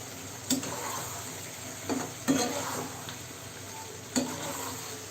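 Eggplant pieces frying in a pan for a prawn and eggplant bhuna, a steady close sizzle broken by a few sharp scraping stirs of the spatula, with no talking.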